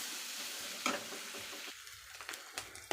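Onions frying in a pan, a soft steady sizzle broken by a few sharp spatula scrapes and stirs, close and fairly quiet, with no talking.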